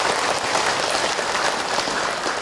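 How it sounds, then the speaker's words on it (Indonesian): An audience breaks into applause at a religious talk, a dense, loud burst of clapping that carries on steadily throughout with no voices over it. "Tepuk tangan buat bunda yang bertanya."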